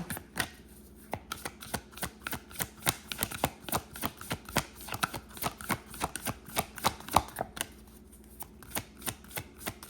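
A deck of tarot cards is shuffled close by in a quick, rhythmic run of soft riffling clicks and slaps that repeat evenly, quiet and alone.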